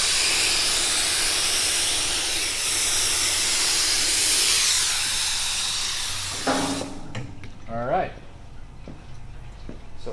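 An activator spray gun hisses loudly and continuously over a Toyota Tacoma part for hydro dipping, then cuts off, leaving someone talking in a quieter room.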